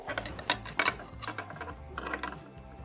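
A free nut on a gas pressure reducer is turned with a wrench, giving a few quick close metallic ratcheting clicks in short bursts, then quieter fiddling.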